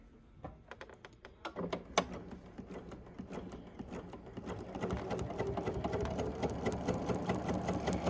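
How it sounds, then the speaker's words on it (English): A sewing machine stitches a Churn Dash quilt block along a straight diagonal line. A few soft clicks come first, then a steady, close, rapid stitching hum that gradually builds and keeps running. "This diagonal seam tape comes in handy for straight line sewing"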